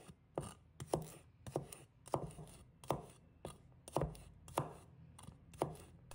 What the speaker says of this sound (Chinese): 一把大蒜，把它切成小块